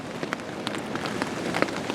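Rain pattering steadily on a tarp outdoors during a backpacking trip, a dense close hiss with scattered sharper drop taps, no talking.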